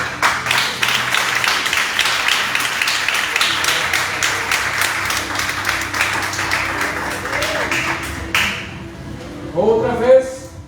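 A church congregation applauding during a sermon about Jesus, dense sustained clapping that fills most of the stretch before fading out, followed by a faint voice near the end.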